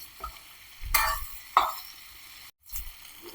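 Egg curry with green chillies and curry leaves sizzles softly in a pan as it is stirred, with two loud spoon scrapes and a brief clatter over the quiet frying.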